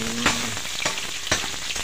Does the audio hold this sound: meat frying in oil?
yes